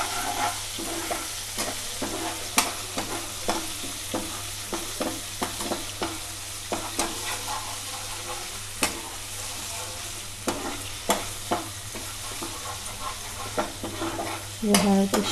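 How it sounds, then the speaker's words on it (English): Ginger garlic paste fries in a pan with a constant low sizzle, while a spoon scrapes and taps against the pan in irregular strokes, growing busier near the end. "fry the ginger garlic paste. We have to mix it till it gets the golden brown color."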